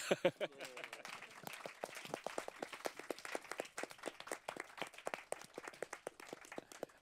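Audience clapping at an evening community storytelling event in Amsterdam, a steady patter of many hands that carries on for about seven seconds, fairly close and moderately loud, with no voices over it.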